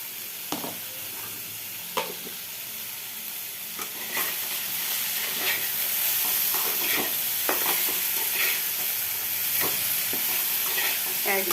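Food sizzles steadily in a frying pan, with repeated scraping strokes of a stirring utensil cutting through the continuous close hiss; no talking.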